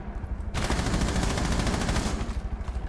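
Enemy automatic gunfire in Rainbow Six Siege, a sudden burst starting after a brief lull and rattling on as rapid, evenly spaced shots, loud and close, with no talk over it.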